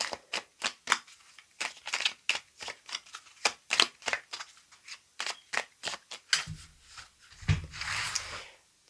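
Tarot cards being shuffled by hand, a steady series of crisp riffling flicks and soft slaps, close and alone, with a low rumble near the end.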